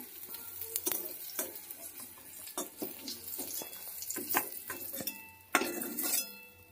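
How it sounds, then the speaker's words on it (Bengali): Okra and eggplant fry in oil in a wok with a close, continuous sizzle. Irregular stirring scrapes and utensil clinks run through it, and there is a louder spatter near the end. "এভাবেই সবজিগুলো ভেজে নিতে হবে সব"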